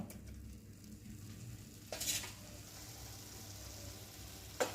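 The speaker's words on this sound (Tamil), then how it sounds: "தக்காளி வந்து நல்லா வதங்கி வரட்டும்" Tomatoes softening in a pan for horse gram kulambu give off a soft, steady sizzle, broken by a couple of louder stirring scrapes, heard close with no voices.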